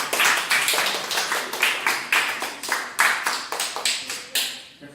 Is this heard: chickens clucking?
no